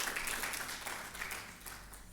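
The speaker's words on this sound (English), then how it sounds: "A round of applause for him again." Audience at a conference session applauds a speaker, a dense, faint wash of clapping heard from a distance that fades slightly toward the end.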